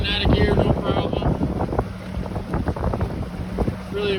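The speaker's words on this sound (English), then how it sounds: "Open up the throttle a little bit." A boat runs on the water with its engine fitted with Holley Sniper marine EFI, a steady drone mixed with heavy wind buffeting the microphone and water rushing past.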